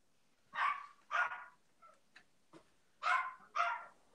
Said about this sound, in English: Somebody's dog. That's my dog.